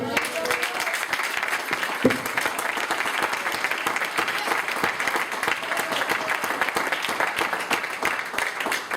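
A congregation at a youth church service claps together after a testimony, a full, continuous burst of applause from many people that stays level and dense throughout.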